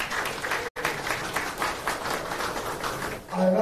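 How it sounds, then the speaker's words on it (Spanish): Steady crowd applause at a political rally for city council candidates in Villa Altagracia, sustained dense clapping from a sizable audience with a brief dropout, continuing loud and near throughout. "un aplauso fuerte para ellos"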